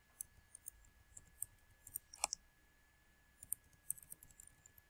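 Scattered soft clicks of computer keyboard keys being pressed while typing up a lease document, coming singly and in small quick clusters, faint and close with no talking.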